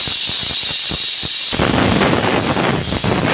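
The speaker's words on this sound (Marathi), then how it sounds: "कुकरच्या 2 शिट्ट्या घ्यायच्या." A pressure cooker cooking stuffed eggplant lets out a loud, piercing steam whistle that bursts in sharply after a stretch of muffled rattling and then holds as a sustained, hissing shriek.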